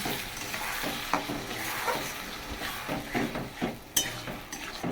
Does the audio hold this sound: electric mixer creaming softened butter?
no